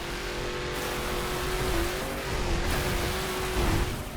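Rally car in the video game The Crew, driving through Florida marshland glades, its engine droning steadily with slight revving swells throughout, no talk over it.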